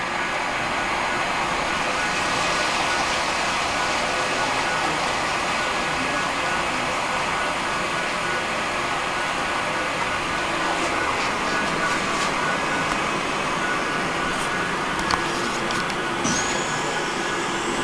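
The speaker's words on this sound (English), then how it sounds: "Missouri Pacific passenger train." A Missouri Pacific model passenger train on a private layout hums and rattles steadily along its track, a continuous whirring drone with faint clicks, no voices.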